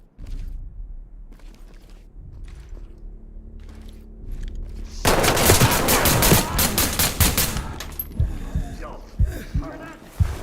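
Gunshots in a GTA roleplay game session, faint scattered shots at first, then a loud close burst of rapid automatic fire followed by intermittent single shots, with a low hum underneath.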